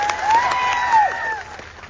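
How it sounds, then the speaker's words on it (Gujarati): Audience applause with some cheering from a political rally crowd, a steady burst of clapping that swells and then thins out, with a whistle-like tone riding over it. "એકવાર જોરદાર તાળીઓ પાડી લો"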